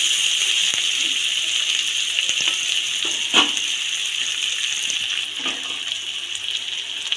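Boiled dal poured into a pan of fried mixed vegetables, a steady wet pouring and splashing hiss running throughout with a brief louder splash midway, close and alone.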